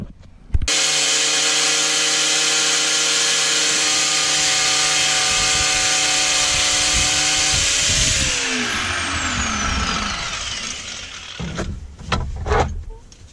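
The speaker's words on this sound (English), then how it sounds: "angle grinders are super loud" An angle grinder cuts metal while fitting a turbo V8 fuel setup in an E36, a loud sustained high whine held steady, then spinning down with a falling pitch and a few clanks.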